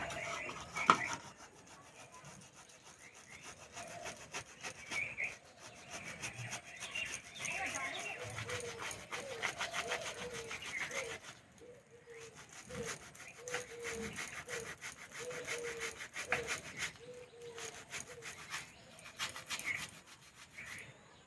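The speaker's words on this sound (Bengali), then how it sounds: "এখানে একটা গেটার নিয়েছে গেটার দিয়ে ঘষে নেবো" Ripe palm fruit is rubbed against a grater, a continuous rasping scrape with steady back-and-forth strokes, fairly close and moderately loud throughout, with no talking.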